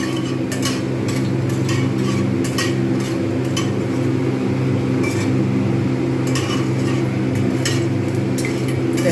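Mutton curry with potatoes sizzles steadily in a pot, frying to a darker colour while a utensil scrapes and clinks against the metal in scattered bursts over a constant low hum, with no talking.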